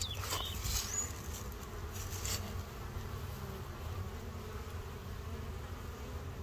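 Honey bees fly in toward their hive in a dense, continuous buzzing swarm, close and steady with no voices.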